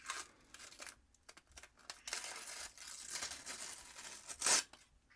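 Protective plastic film being peeled off an MSI RTX 5050 Shadow 2X OC graphics card, close crackling tearing strips in several pulls, the last one sharpest and loudest.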